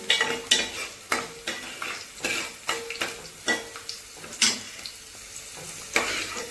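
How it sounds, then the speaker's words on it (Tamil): Garlic fries in oil for an eggplant kuzhambu while a spoon stirs it, giving repeated scraping strokes over a steady, fairly close sizzle with no talking. "பூண்டு வந்து இந்த எண்ணெயிலேயே வதக்கிறப்ப"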